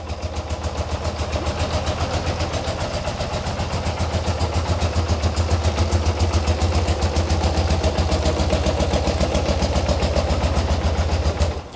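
A 1990 BMW R100 GS Paris Dakar motorcycle idles nearby through a full stainless exhaust, a steady rapid low pulsing beat that runs evenly throughout before cutting off at the very end.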